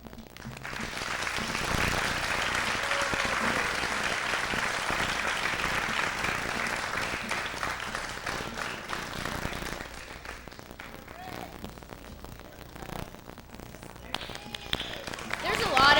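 Sustained audience applause fills a high school awards ceremony, loud and dense at first, then thinning slightly as the clapping carries on, with crowd murmur underneath.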